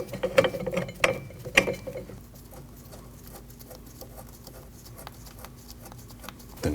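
A ratchet tightens suspension knuckle bolts on a 2003-2008 Subaru Forester, giving a few loud clicks and then a quick run of fainter ratcheting clicks. The sound is close and there is no talking.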